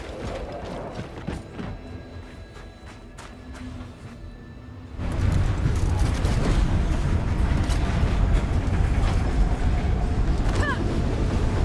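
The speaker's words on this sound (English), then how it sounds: "Oh, reckon that train's a step ahead of us." A train moving in the video game Gears 5, heard as a steady mechanical rumble with clanking, ratcheting clatter and wind noise, growing louder and fuller halfway through and staying close and continuous.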